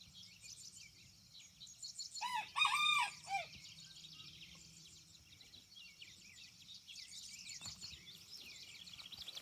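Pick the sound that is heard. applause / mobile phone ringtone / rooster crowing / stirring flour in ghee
rooster crowing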